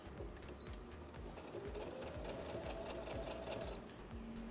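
A sewing machine stitches a sleeve onto a garment piece, its needle running in a fast, steady mechanical hum with rhythmic clicking, close and continuous throughout with only faint background.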